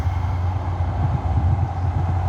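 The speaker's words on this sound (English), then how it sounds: "I'm not going to apologize for these trains, but I'm sorry about the trains." A train passing near a park, a loud, continuous low rumble that holds steady throughout, close by and without talk.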